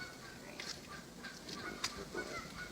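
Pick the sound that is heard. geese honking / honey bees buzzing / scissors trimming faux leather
geese honking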